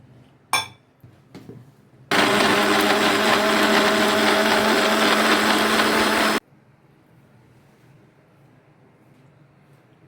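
A mixer blending fruit juice with milk, honey and country sugar runs loudly and evenly for about four seconds after a couple of clinks, then stops abruptly into quiet.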